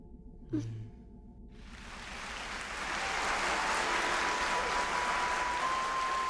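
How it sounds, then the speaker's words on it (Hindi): Applause welcoming people, starting with a brief breath. A broad wash of clapping then swells and holds steady to the end, with no speech. "कुछ ऐसे भी हैं इनमें जिनका स्वागत तालियों से होता है।"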